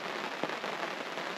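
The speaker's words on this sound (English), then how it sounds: "it's raining" Rain patters steadily at a lakeside campsite on Nina Moose Lake in the Boundary Waters, a dense, even hiss with faint scattered drops close by.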